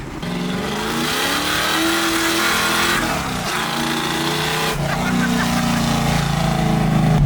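A supercharged 1965 Ford Mustang engine revs loudly and close, its roar rising and falling through several throttle blips over a sustained rumbling idle.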